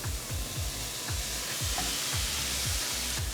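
Vegetables and pasta with vegetable broth sizzling in a pan under a steady hiss, with regular scraping strokes of stirring repeating roughly every third of a second, close and moderately loud.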